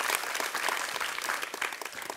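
Sustained audience applause at a televised quiz show, a steady dense wash of many hands clapping throughout, fairly loud and without talk.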